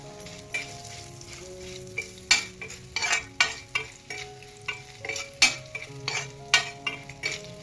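Whole spices frying in oil for a Kolhapuri kanda lasun masala, a soft steady sizzle broken by a dozen sharp spoon scrapes and taps against the pan in an uneven rhythm, close and without talk.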